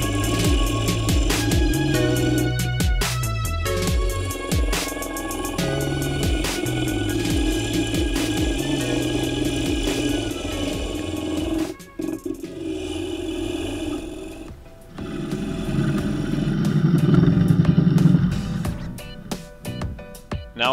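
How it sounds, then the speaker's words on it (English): A wood lathe turns a dry poplar bowl while a 3/8 inch bowl gouge cuts a mortise in its base: a continuous, close scraping roar with a steady motor hum that briefly drops out midway, then returns, with no speech. "Now I'm using my 3/8 inch bowl gouge to form a mortise in the base of the bowl."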